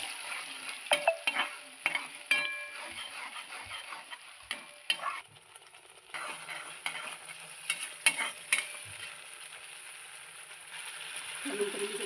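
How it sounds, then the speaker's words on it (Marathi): Blended raw onion-tomato masala paste for chole frying in hot oil, a steady close sizzle broken by repeated scraping stirs of a spoon in the pan. "कच्चे असल्यामुळे याला तेलात परतून घ्यायचं आहे"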